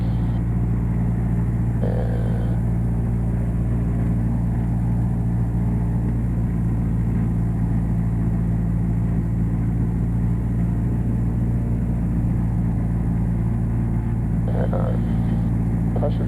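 A light aircraft engine running steadily on the ground during a training-flight run-up, a loud, constant droning rumble with a strong low hum that stays even throughout, with a few faint voices over intercom.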